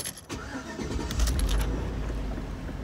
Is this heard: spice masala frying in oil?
no